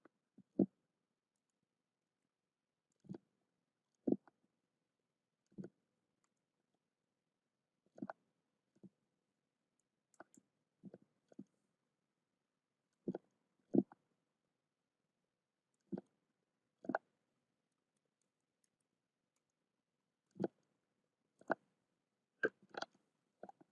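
Sparse keystrokes on a computer keyboard while entering a math answer, sounding as isolated soft clicks and short bursts spread irregularly, close and quiet with no talking.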